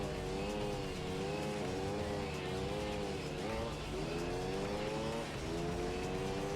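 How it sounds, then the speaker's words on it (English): LMP Dragon race car in Gran Turismo 3 screaming through repeated upshifts and throttle changes, its engine note rising and dropping in waves, loud and continuous with faint tire squeal. "I prefer the engine note a bit"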